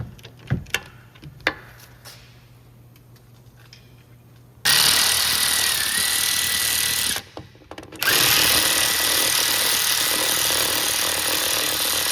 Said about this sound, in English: we're going to take the 3 bolts out of the back of the wheel hub so we can take it off of the knuckle